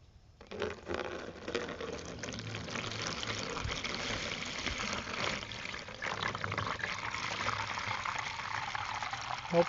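Distilled white vinegar poured into a container for preserving makes a continuous liquid pouring and filling sound, fairly faint and steady throughout.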